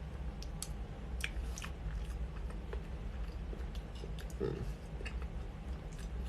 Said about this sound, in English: I'm munching on an alkaline berry mango porridge.